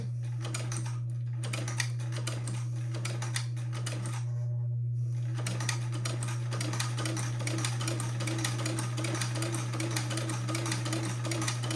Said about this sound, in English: very slowly I'm going to sew a buttonhole